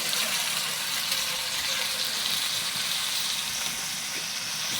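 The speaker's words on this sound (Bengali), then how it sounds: "এখন দিতে হবে পানি।" Water pours into a pot of sizzling chicken masala on a clay stove, producing a continuous loud rushing, bubbling wash of sound with steady frying hiss underneath throughout.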